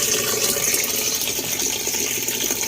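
Water flows steadily while plants are watered, a continuous close splashing and gushing stream with no pauses.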